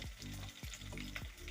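Slit green chillies frying in a pan for a North Kerala fish curry, a soft, steady sizzle broken by a few short scrapes of stirring, with no voices.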